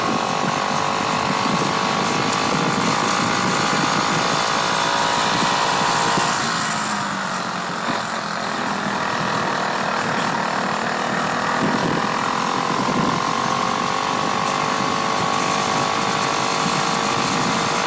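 A Predator small engine runs continuously during break-in, a loud, steady mechanical drone with a clattery rattling texture and slight shifts in pitch, close up with no talking.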